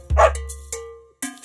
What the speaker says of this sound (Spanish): Había un granjero que tenía un perro y se llamaba Bingo